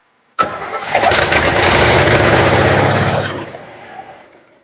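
A car engine cranks and catches, then roars loudly and settles as it runs on a junkyard vehicle while the fuel pump primes; one sudden start followed by sustained close engine noise fading toward the end, no talk.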